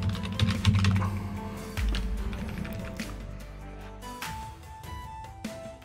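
Rapid keystrokes on a computer keyboard tap out a domain name, a close, continuous clatter with uneven rhythm over a low background hum, no talking.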